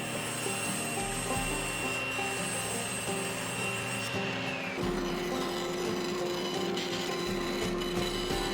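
A bandsaw cutting glued-up wooden pieces for a snowboard mold, a continuous loud whirring and rasping drone with a shift in pitch partway through as the blade loads into the wood, with no talk.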